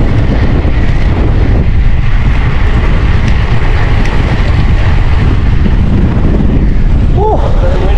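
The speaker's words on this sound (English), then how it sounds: "Very windy today though." Strong wind roars steadily across the microphone during a bike ride, a dense, loud broadband rush that fills the whole stretch without letting up.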